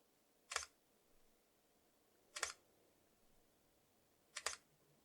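Olympus camera firing a bracketed burst automatically: three crisp shutter clicks spaced about two seconds apart, each sharp and close, with near silence between them and no voices.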